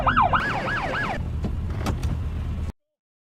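A rapid wailing ambulance siren rises and falls close by for about a second, then gives way to rumbling vehicle engine and road noise with a few knocks before cutting off abruptly.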